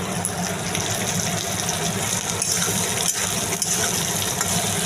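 Potatoes frying with turmeric and salt over a full flame, a steady, loud, dense sizzle that holds evenly throughout with no talking.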